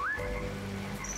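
Whistling in the video game Beasts of Maravilla Island, a single bright rising whistle that opens the moment, followed by a low steady tonal hum with a faint high tone near the end.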